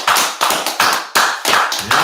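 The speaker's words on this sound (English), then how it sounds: "let's clap it up" Loud, close rhythmic clapping in bursts, about seven sharp hand claps in a quick, regular beat, each ringing briefly in a room, with no talking over them.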